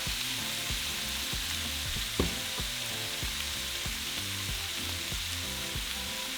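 Chorizo and potatoes fry in a pan with a dense, continuous sizzle, broken by rhythmic scraping and stirring of a utensil and one brief knock.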